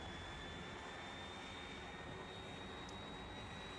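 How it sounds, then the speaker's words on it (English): Jet aircraft flying in the video game Factorio, a steady broad engine roar that holds loud and constant throughout, with a thin high whine riding on top and no voices. "So let's get in our jet"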